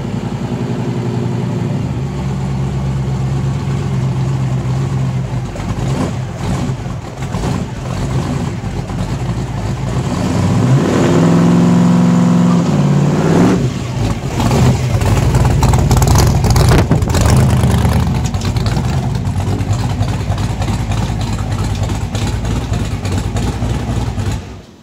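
A race car with a small-block Chevy engine held on the trans brake at 3,000 RPM, a loud, steady, rough engine roar that surges and revs midway as the brake releases and the tires spin briefly.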